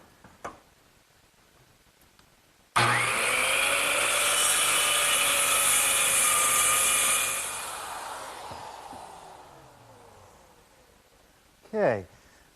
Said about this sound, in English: I'm just going to use my circular saw to trim it off.